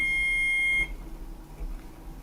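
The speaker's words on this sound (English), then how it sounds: "the first beep meant that the water temperature had reached whatever 45 degrees is" An egg cooker beeps as its water reaches temperature for a soft-boiled egg: a steady, bright electronic tone lasting under a second, then cutting off to quiet room noise.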